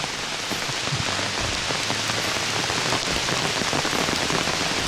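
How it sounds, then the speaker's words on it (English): Heavy torrential rain pours down steadily on the Deep Creek trail in the Smoky Mountains, a dense, loud, continuous hiss of drops hitting the ground and foliage close by, with no voices. "right now it's the rain coming down so hard because it's coming down in torrents"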